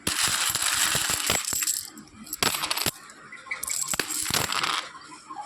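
Loose Indian one- and two-rupee coins from a mixed lot jingle and clatter as they are stirred and dropped together, in dense metallic bursts broken by a few short pauses, close and fairly loud, with no talking.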